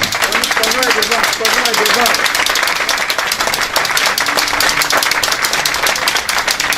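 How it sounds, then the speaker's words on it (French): An audience at a Toastmasters club awards ceremony gives the club's president a loud, sustained round of applause. Dense, close clapping fills the whole stretch, and a voice speaks briefly over it early on. "je vous demande de faire un tonnerre d'applaudissements"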